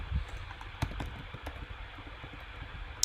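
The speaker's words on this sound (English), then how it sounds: "This keyboard I'm typing on is awful is the problem." Key clicks from an awful-feeling computer keyboard, quiet and irregular, with a few sharper taps standing out over a low background rumble.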